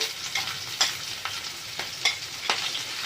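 Chopped onion sizzles steadily in a pan in a Bengali home kitchen, with spoon scrapes about every half second as it is stirred; no voices.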